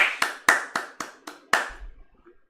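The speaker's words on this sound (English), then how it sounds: "Everybody give Sam an applause." A class claps for a student during a lesson on market trends: about seven crisp, close hand claps in an uneven rhythm, ringing slightly in the room, then trailing off into quiet.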